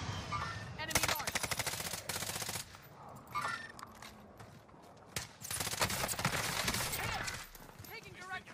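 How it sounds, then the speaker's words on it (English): Gunfire in the Warzone video game: loud automatic bursts and single shots close by, broken by short pauses, with players shouting over the shooting. "Taking direct fire!"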